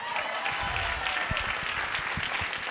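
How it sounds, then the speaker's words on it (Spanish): An audience claps for a guest at a Spanish-language science comedy talk, a dense, steady round of applause throughout with a few sharper claps standing out near the front. "otro fuerte aplauso para Lumara"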